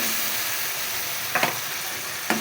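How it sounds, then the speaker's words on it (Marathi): Onion paste frying in a pan with a dense, steady hiss of hot oil, close and even, broken by a couple of brief stirring scrapes. "कांदा पण मस्तपैकी फ्राय करून घेऊया"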